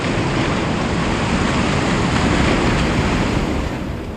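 Ocean waves break against the shore in a steady, loud, wide roar of surf that holds for the whole stretch and eases slightly near the end, with no voices.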